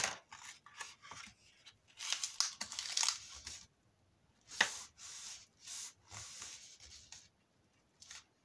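Scissors cut paper for a cut-out insert in close, crisp bursts of snipping and rustling, separated by short pauses.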